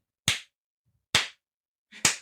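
Three sharp hand claps ring out alone at an even, spaced pace, each a crisp broadband smack with a short decay and silence between.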